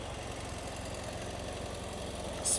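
A motorcycle engine idling on its center stand during a long road trip, a steady low mechanical throb with faint rhythmic pulsing, fairly quiet and unbroken, ending with a short brighter click.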